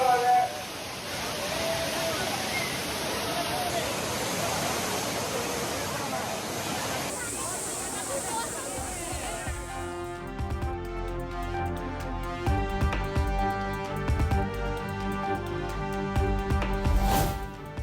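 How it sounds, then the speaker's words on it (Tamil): A roaring waterfall at Courtallam falls, where families of tourists bathe under the pouring water, gives a steady, loud broadband rush for about seven seconds before music takes over. "ஆர்ப்பரித்து கொட்டும் நீரில் குடும்பத்தினருடன் உற்சாக குளியல் போட்ட பொதுமக்கள்."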